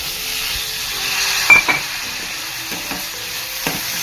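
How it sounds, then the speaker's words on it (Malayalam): Cooked long beans being stirred into onion and chilli frying in a pan, a steady close sizzle with a few scraping stirs and brief clinks, no talk. "നമുക്ക് വേവിച്ച് വെച്ച പയറിടാം."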